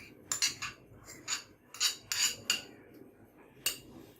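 A spoon stirs and mixes sweetened, cooked palm fruit puree in a metal pot, giving a series of irregular scraping clinks and rubs, close and moderately loud, with short pauses between strokes.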